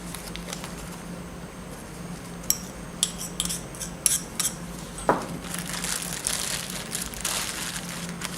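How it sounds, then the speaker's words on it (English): Leftover sodium borohydride is returned to a plastic bag in a chemistry lab, giving a few sharp crinkles and rustles of plastic against quiet room noise. "I'm going to put the remaining back into this plastic bag"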